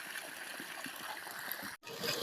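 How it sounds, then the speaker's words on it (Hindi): Water runs from the outlet of a roughly 70-foot borewell pump, a soft steady trickling and gurgling stream, faint and continuous, with one brief dropout near the end. "नीचे वाला पानी जो पहले वाला निकल रहा है"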